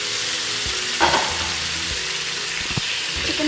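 Chicken pieces hit a pan of fried tomatoes and green chillies, giving a steady, close sizzle with a few stirring scrapes and clinks, and no talking.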